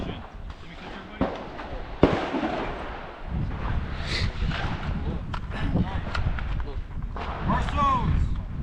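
Pistol and rifle shots fired during a transitions shooting drill at an outdoor range in Hawaii, several sharp separate bangs spread through the clip under a man's spoken instructions.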